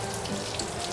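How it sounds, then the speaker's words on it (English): Steady rush of water running through an outboard motor's flushing hose, continuous and fairly close with no talk. "turn the water off"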